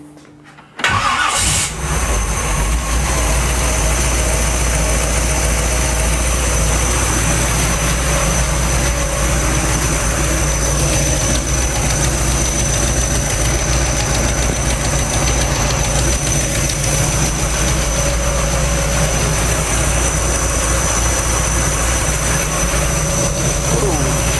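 A 1955 Chevy engine, hard to start and fed squirted fuel, cranks and catches about a second in, then runs at a loud, steady, rumbling idle, close by and alone for over twenty seconds.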